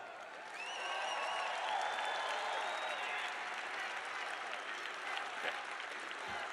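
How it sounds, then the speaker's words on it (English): Sustained crowd applause and cheering at a Donald Trump rally in Nashville, Tennessee, honoring military service members, rising quickly and holding steady, heard from a distance with a few whistles and shouts. "give them a hearty applause"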